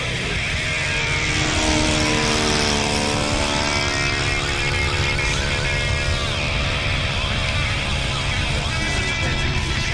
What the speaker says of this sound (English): 4x4 plane flies.